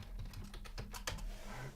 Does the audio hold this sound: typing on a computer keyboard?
yes